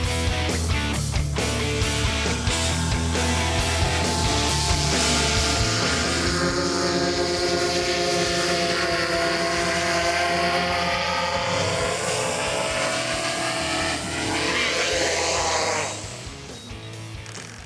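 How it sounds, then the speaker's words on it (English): A small drone coming in to land, its propellers giving a steady buzzing whine that shifts in pitch as it descends, then drops off sharply near the end. "now I'm going to bring the drone in for a landing."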